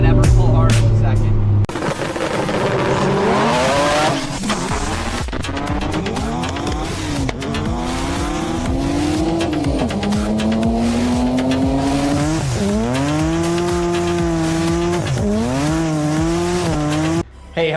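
A car called Red Ted accelerates hard on a street, its engine loud and close, climbing steeply in pitch through repeated gear changes in one continuous, powerful pull.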